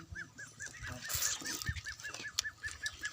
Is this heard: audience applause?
no